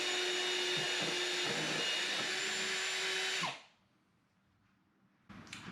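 A power drill used as a router cuts a channel in wood, a loud steady high whine and grinding for about three seconds, then it winds down and stops, followed by a near-silent pause and a brief restart.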